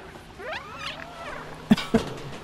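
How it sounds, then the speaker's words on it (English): A cat in the video game Stray gives a short rising and falling meow, followed by two quick soft thumps, close and fairly quiet with no talking. "I love those little cat sounds"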